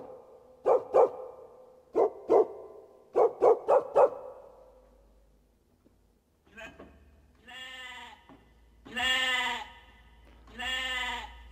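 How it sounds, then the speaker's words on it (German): A kids' Artesia digital piano plays animal voices: a string of short, loud barks in quick pairs and triples, then after a pause several long, wavering sheep bleats, each standing alone. "Also wenn sich das Kind immer schon mal ein Schaf gewünscht hat oder ein Hund und es nicht bekommt, da bellt er dann halt aus dem Piano raus."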